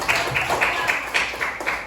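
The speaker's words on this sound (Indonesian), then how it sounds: "Tepuk tangan dulu." A classroom of students claps in a brisk, fairly loud burst of applause lasting a couple of seconds, with uneven rhythmic peaks of many hands together.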